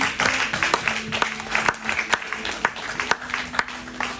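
A church congregation claps in uneven bursts for several seconds, a scattered mix of near and farther hands, with a low sustained tone running underneath.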